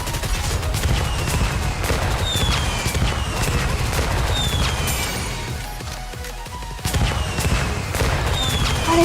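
Sustained gunfire from the video game NIKKE, a dense fusillade of rapid shots with occasional whizzing streaks, loud and unbroken apart from a brief dip before resuming.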